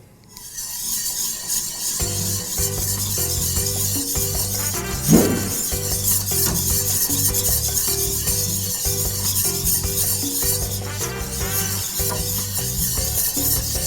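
A roux being whisked in a pan with heavy cream for chicken meatballs: a steady, continuous scraping and rasping stir that runs the whole time, with a brief louder clink partway through and no talking.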